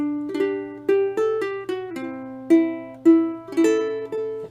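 Ukulele picked fingerstyle with only the thumb, playing the melody of We Wish You a Merry Christmas as single plucked notes in a steady rhythm, close and clear, with no voices.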